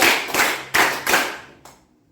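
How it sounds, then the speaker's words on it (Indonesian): A group of people clap together in a counted rhythm, several loud, sharp bursts in a room, each a ringing wash of many hands, the last one quieter before fading out. "Tepuk 1 kali, tepuk 2 kali, tepuk 3 kali, tepuk 4 kali"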